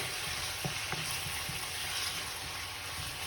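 Tinned tomatoes sizzle steadily in a hot pan for toor dal, with a few soft spoon scrapes from a quick stir early on, close and continuous with no talking.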